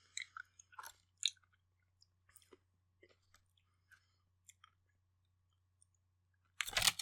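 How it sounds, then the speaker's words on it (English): Close, quiet crunching bites and chewing of a crunchy Hammond's key lime pie chocolate bar in scattered bursts, ending with a louder crackle; a faint low hum runs underneath. "This is a chocolate bar, a crunchy chocolate bar"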